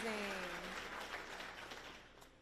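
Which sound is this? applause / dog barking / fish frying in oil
applause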